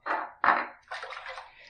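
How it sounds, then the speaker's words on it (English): While shaving, water is splashed onto the face in three close, wet bursts: two short splashes followed by a longer sloshing rub, with no talk. "A little bit of water on my face"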